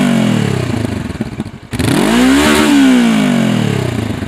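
A Honda CB500X motorcycle engine is revved hard to the rev limiter, the exhaust note climbing and falling in a loud, close roar before settling back.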